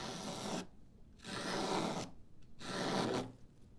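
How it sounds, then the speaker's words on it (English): A spokeshave shaving wood clamped in a vise, three long rasping strokes, each about a second long, separated by short pauses, close and fairly quiet with no talk. "I'm gonna clamp this in my vise. And then I'm going to shape it using a spoke shave. I can just take long passes."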